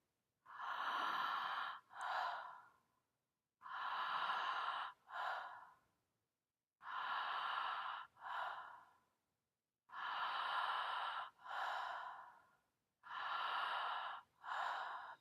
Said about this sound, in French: Inspirez, expirez. L'intérieur à l'extérieur. In and out.